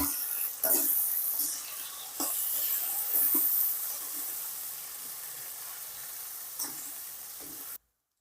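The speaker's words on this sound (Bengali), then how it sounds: "সামান্য পরিমাণ একটু হলুদ দিয়ে দেবো দিয়ে এটাকে নেড়ে লাল লাল করে ভেজে নেব" Potatoes seasoned with salt and turmeric fry in hot oil, giving a steady close sizzle with scattered pops and stirring clinks, then cutting off abruptly near the end.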